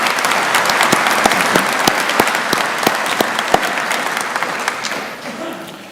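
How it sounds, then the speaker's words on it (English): Graduation audience applauding at a technical college ceremony, a dense steady wash of many hands clapping in a large hall, loud at first and then thinning out toward the end. "So give them a round of applause as well."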